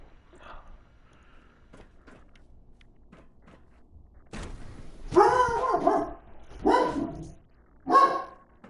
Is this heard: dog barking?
yes